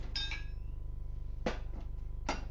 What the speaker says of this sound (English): I'm going to try to hammer this thing in a little bit.